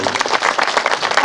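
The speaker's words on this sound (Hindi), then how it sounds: "एक बार जोरदार ताली होनी चाहिए।" Enthusiastic audience applause at a spiritual gathering in Dhanbad, India, with dense, loud, sustained clapping from a large crowd.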